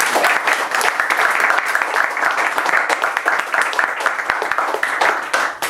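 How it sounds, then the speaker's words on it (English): An audience at a poetry exhibition breaks into sustained applause, dense clapping from many hands that holds steady for several seconds before tapering slightly. "let's have a round of applause from both, if that's possible"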